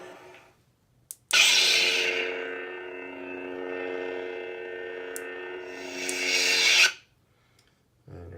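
A Vader sound font on a custom lightsaber ignites with a sharp crackling burst, hums steadily with a deep buzzing drone for several seconds, then retracts with a rising rasp before falling silent.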